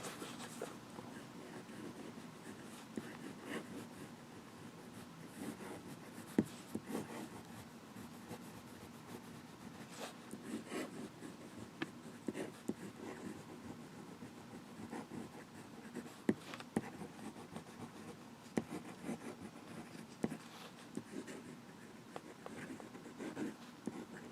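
A fountain pen with a 1.5 nib writing on Rhodia 80g paper, a faint continuous scratching and rubbing with small irregular strokes, close and quiet.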